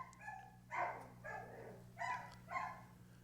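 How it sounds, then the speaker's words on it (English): A dog in the background barks four times in a steady rhythm, each bark fairly clear and moderately loud over a low hum, with no talk. "my dog is tripping in the background."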